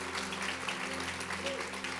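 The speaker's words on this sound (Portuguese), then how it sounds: "Vamos aplaudir forte, por favor." A church congregation applauds fairly quietly over a low, sustained musical hum. The clapping is steady and muffled throughout the brief stretch.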